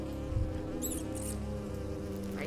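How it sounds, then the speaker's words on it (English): Bees buzzing in the hidden-object adventure game Nightmares From the Deep 3: Davy Jones, a steady, close insect drone that holds for the whole stretch with no speech over it. "Oh, there's more bees."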